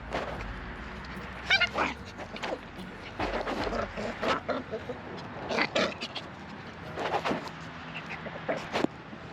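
Several puppies play roughly together, giving repeated short yelps, whimpers and yips at close range in scattered bursts, with faint human voices in the background.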